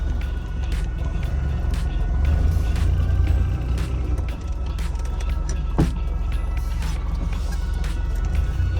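A restored Maruti 800 hatchback runs while moving, its engine a steady low drone under road rumble, with a brief sharp knock partway through and no talking.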